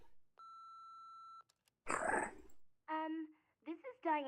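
A video game phone rings with one steady electronic tone that holds for about a second and then stops, followed by a burst of noise and a voice speaking.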